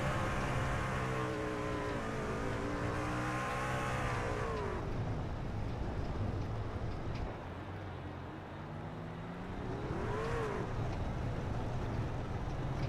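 A race truck at Talladega roars through a celebratory burnout, its engine wailing and revving hard in long sustained pulls, easing off before surging again, loud and close with no talk.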